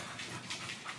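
A dog whimpers in a soft, continuous whine, faint and close, with a breathy hiss running throughout.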